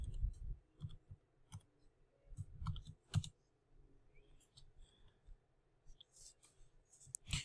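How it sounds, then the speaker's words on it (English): Faint, scattered key clicks come from someone typing a password on a computer keyboard, in irregular quiet taps with short pauses between them. "type in the password"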